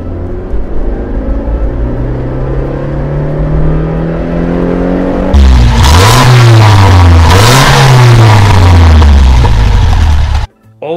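A classic car engine idles with a low rumble, then revs hard twice in loud, rising surges before cutting off abruptly near the end.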